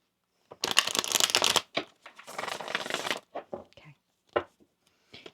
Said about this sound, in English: Let's get another shuffle there